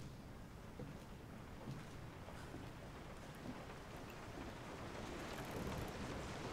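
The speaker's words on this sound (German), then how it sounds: "Und es regnet und es stürmt und gewittert." Evening rainstorm with wind and thunder in the game Resident Evil 7 Biohazard, a faint, steady wash of rain and rumbling, unbroken for several seconds, with no one speaking.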